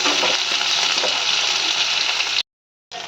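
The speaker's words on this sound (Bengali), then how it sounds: "আলু বেগুনটা দিয়েও আমি একটু ভাজা ভাজা করবো।" Potato and eggplant pieces frying in a pan, a dense, continuous hissing sizzle up close that cuts off briefly near the end and then resumes.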